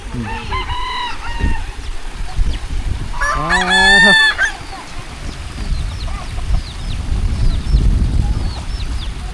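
Close, noisy farmyard fowl in a rural Thai village: chickens clucking and squawking, with a burst of loud honking calls from ducks midway over a constant low background.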